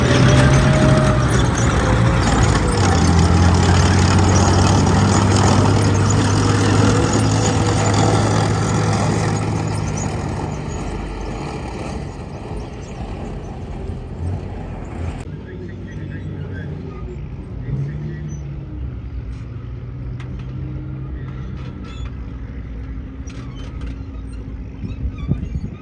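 An FV4005 tank engine drones loud and close on a lap of honour at a show, the heavy rumble easing and fading somewhat partway through before settling into a lower, steady run.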